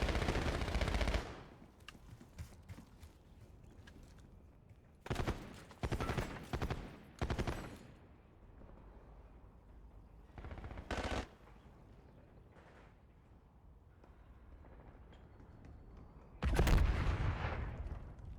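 Bursts of automatic gunfire crackle through a video game battle, with several separate volleys of rapid shots spread across the stretch, some loud and close, others fainter, with quiet gaps between them.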